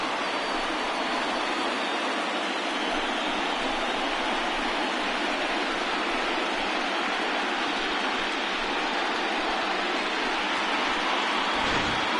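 Steady rain pouring down at an outdoor baseball game, a dense continuous hiss that fills the whole stretch without pause or voices.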